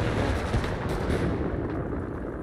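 In the Enlisted video game, dense artillery fire rumbles as a continuous barrage of heavy booms for the whole stretch, loud and close, with no voices.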